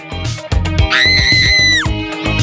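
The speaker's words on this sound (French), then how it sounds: "Et on attend avec plaisir les cris de terreur." Screams during a Halloween prank: a shrill, high scream rises sharply and holds for about a second between bursts of voiced sound and clatter, close and loud.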